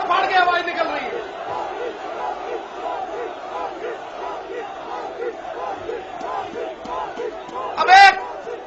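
A political rally crowd roars and cheers in a loud, sustained wall of voices, with a sharper shrill burst rising near the end.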